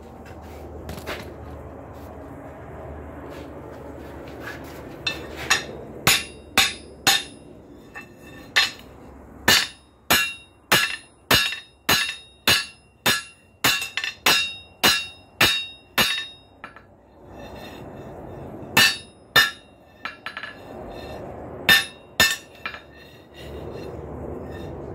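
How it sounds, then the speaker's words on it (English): Hammer blows on a steel leaf-spring nail bar at an anvil ring out sharply: a few scattered strikes, then a steady run of about fifteen evenly paced ringing clanks, a pause, and a few more, close and loud. "Adjustments at the anvil."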